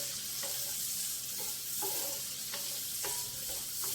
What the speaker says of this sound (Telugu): ఉల్లిపాయలు కొంచెం వేగిన తర్వాత